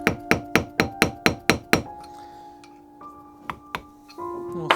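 A hammer strikes a center punch during an axe restoration, eight sharp, evenly spaced metallic blows in quick succession, then a pause and two more isolated strikes, loud and close.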